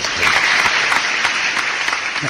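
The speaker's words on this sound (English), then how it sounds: "That was Franklin doing the clapping" Clapping inside a radio studio, a dense, loud burst of rapid hand claps close to the microphone, continuous through the moment.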